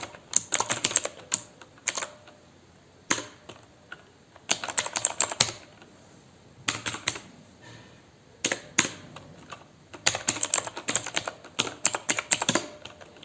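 Someone types a command on a computer keyboard in a Windows shell: bursts of crisp, close key clicks separated by short pauses, with no talking.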